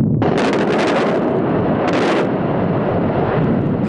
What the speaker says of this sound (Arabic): كانت عندنا عملية تفجير بمحجرة الكلس التابعة لمؤسسة الإسمنت للمتيجة